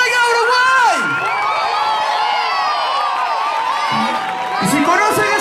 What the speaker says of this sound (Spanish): Un muy fuerte aplauso